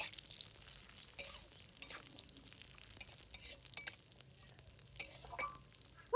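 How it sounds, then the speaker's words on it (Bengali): Cashews and raisins fry in hot ghee for a rice pudding, giving a steady, faint close sizzle with scraping stir strokes and an occasional light clink of a utensil against the pan. "গরম ঘির মধ্যে কিছুটা দিয়ে দিয়েছি কাজু আর কিশমিশ।"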